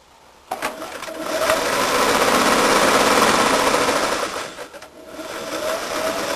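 Sewing machine stitching fabric along a seam line, a fast steady mechanical whir that starts abruptly, runs loud for several seconds, dips briefly, then resumes.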